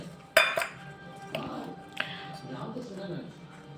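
A spoon stirs gram flour stuffing in a bowl for Kathiyawadi-style stuffed brinjal and potato curry, with a sharp metallic clink followed by a few lighter scraping taps against the bowl as someone talks.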